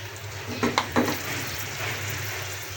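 Broken wheat roasting in desi ghee in a pan, stirred with a utensil: a low steady sizzle with a few light scrapes and clinks near the start, fairly quiet and without talk.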